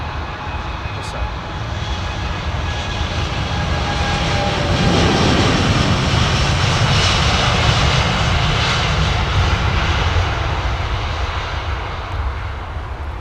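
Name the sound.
Boeing 767-400 jet aircraft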